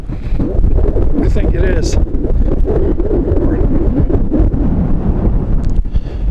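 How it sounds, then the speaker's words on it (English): Strong wind buffets the microphone on a cold beach at low tide in Ocean City, Maryland, a steady low roar running throughout while a person speaks briefly over it. "is it cold and windy"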